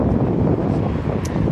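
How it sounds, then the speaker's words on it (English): Loud, continuous wind buffeting the microphone outdoors beside the east-facing side of the old King Edward Hotel building, a rough low roar that doesn't let up. "A little windy here today,"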